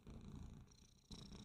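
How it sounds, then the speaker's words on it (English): Buddy the cat purring close by, a steady low rumbling purr that keeps going for about a second and a half, briefly easing off before swelling again, with no one talking over it. "Buddy the cat wanted to say hello to on the podcast"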